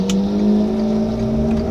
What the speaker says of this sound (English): The exhaust sounds so much better from the Bentley following the Aventador, in a way.